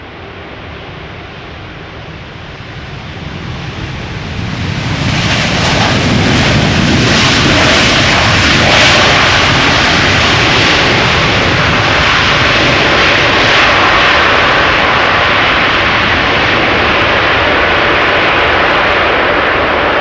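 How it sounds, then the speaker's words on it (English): An Atlas Air Boeing 747-8 cargo jet lands at Schiphol after a flight from Miami, its engine roar swelling in after about five seconds into a loud, sustained broadband rumble and whine that holds steady to the end. "Atlas Air 747-8 arriving from Miami."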